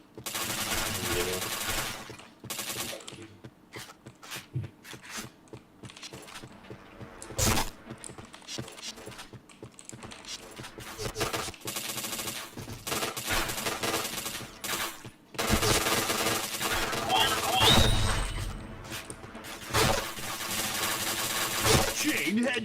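Rapid automatic gunfire and bursts from a shooting video game, loud dense volleys broken by short pauses, with a voice talking excitedly over the action.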